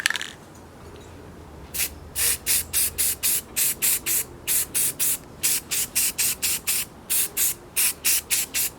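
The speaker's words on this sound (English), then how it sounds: "I'm going to go ahead and just spray paint these two with as much as the bottle gives me" A spray paint can hisses in a rapid series of short, even bursts, close up, painting disposable plastic shot glasses, with no voices.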